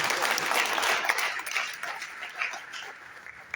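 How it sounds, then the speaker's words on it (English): Audience applause at a digital economy lecture, a fairly loud burst of clapping that thins and fades over a few seconds, ending with a few scattered claps. "Clap for me"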